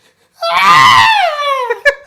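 A person vocally imitates a cartoon character's high, girly scream, a loud sustained shriek that slides downward and ends with a brief breathy gasp.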